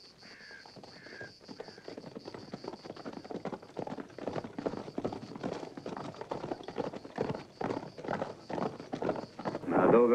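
Horses gallop in a race across open western country in a 1965 film, the rapid hoofbeats rising from faint to loud as they draw near, with a bird cawing early on.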